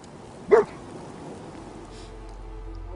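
A single dog bark rings out in Fallout 4, one short, sharp burst near the start, followed by quiet game ambience with no further barking.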